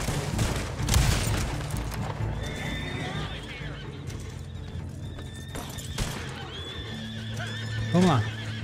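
Horses in Red Dead Online neigh and whinny over steady clip-clopping hooves, with scattered gunfire and game noise around them, loud and busy throughout the scene.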